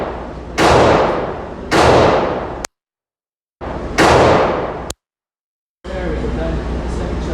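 A Glock 44 .22LR pistol firing: three or four sharp, loud reports, each with a short ringing decay, separated by brief gaps of complete silence.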